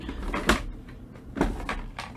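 A drawer holding rubber stamp blocks slides open and shut in a craft room, giving two clear wooden knocks and rumbles about a second apart, close and moderately loud, with no talking.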